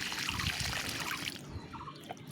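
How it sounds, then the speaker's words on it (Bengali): Water mixed with liquid plant food trickles and pours onto a rose plant in a pot, a close, gurgling stream that fades into a few faint drips at the end. "প্রথমে আমি এই গোলাপ গাছটা দিয়ে দেবো ভরপুর জল দিয়ে দেবো"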